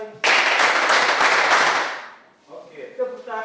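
A group of participants at an Indonesian differentiated-learning session claps on command in a loud, dense burst of many overlapping hand claps lasting about two seconds. It dies away into a voice speaking.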